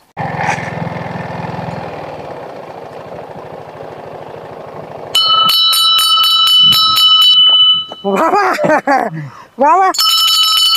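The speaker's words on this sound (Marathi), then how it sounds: "काय घंटी लय भारी वाजत या" A bell rings loudly and repeatedly in bright, steady bursts after an engine-like rumble, with chirping tones and a person speaking briefly nearby.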